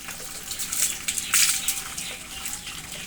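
Water splashes and gushes while a small child is bathed, pouring in uneven bursts with a louder surge in the middle, close by and steady, with no talking.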